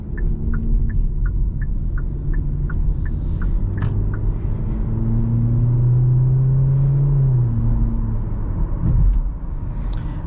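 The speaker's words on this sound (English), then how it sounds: "Does have a naturally aspirated engine, so doesn't have a turbocharged engine." A naturally aspirated engine in a 2023 Hyundai Elantra hums and rumbles steadily from inside the cabin while driving, with the engine note rising in a smooth tone midway before settling; a short series of regular clicks, like a turn signal, ticks at the start.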